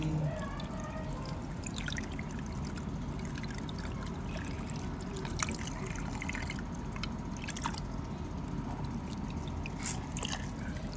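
Water poured and trickling over a lotus-flower-pattern stone, a continuous close splashing and dribbling wash with scattered drips, steady throughout.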